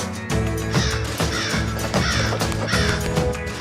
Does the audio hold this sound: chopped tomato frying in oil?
no